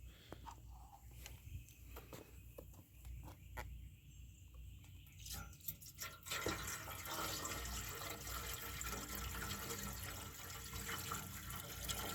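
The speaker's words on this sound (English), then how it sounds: "Now, let me prop that up and then I'll pour the other jug in." Fuel glugs from a jug into the tank of a 1978 Kawasaki KE100 motorcycle, starting with faint splashes and clicks before turning into a steady, close pouring rush.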